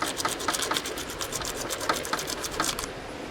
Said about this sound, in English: Just use a little sandpaper.